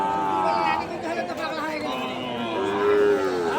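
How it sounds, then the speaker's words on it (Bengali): Sahiwal cattle at a crowded cattle market, a long low moo and lowing calls rising over the busy chatter of people talking nearby. "পাশে অসংখ্য সুন্দর সুন্দর শাহিওয়াল জাতের গরুগুলি দেখতে পারতেছি"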